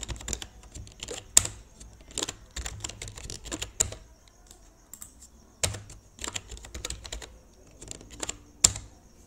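Quiet computer keyboard typing while HTML code is written, a steady irregular patter of soft key clicks with occasional sharper taps, close and alone.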